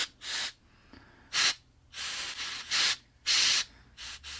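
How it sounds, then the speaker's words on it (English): Fluid and compressed air squirting through the passages of a bearing on a Suzuki trackbike, six or seven sharp hissing bursts of about half a second each, close and loud, separated by brief pauses. "Make sure that these do squirt through, right, that the shit and crud and oil and stuff comes out."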